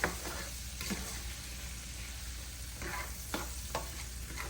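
Seasoning frying in hot oil in a pan, a soft, steady sizzle marked by a few scattered stirring clicks, heard alone.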